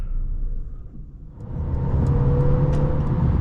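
A Mercedes-Benz CLA 250 cruises on the highway. A loud, close engine and road rumble dips briefly, then swells and holds steady as the car picks up speed, with no talk.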